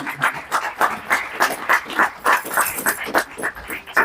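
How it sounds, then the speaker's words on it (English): Audience applause for guests at an Invicta watch collectors' cruise event, heard as loud, steady, fast rhythmic clapping with no talk over it. "Let's give them a big round of applause."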